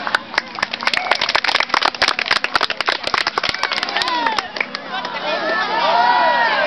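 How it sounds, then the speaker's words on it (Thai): Applause and cheering from a crowd at a school model aircraft flying show, sharp scattered claps mixed with shouting voices for several seconds, giving way to a rising chorus of cheering voices. "ด้วยกันปรบมือให้กำลังใจหน่อยนะครับ"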